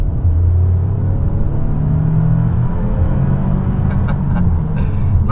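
A 2019 Toyota Camry XSE's four-cylinder engine pulls under acceleration, heard from inside the cabin as a loud, steady low rumble with a rising drone.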